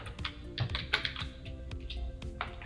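Rapid typing on a computer keyboard while entering text in Photoshop, a steady run of light, close clicking keystrokes with no talk.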